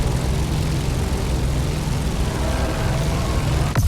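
A passenger airplane in The Crew Motorfest descends toward Honolulu on Oahu, its engines a steady, dense low roar and broad wash that holds evenly throughout, close and fairly loud, with no voices.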